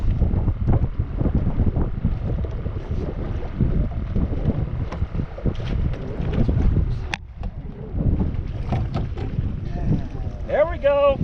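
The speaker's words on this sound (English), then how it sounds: "the wind was blowing like crazy, so you probably can't hear half of it" Strong wind buffeting the microphone on a small fishing boat out trout fishing, a loud continuous roar with gusts throughout, and people talking faintly underneath.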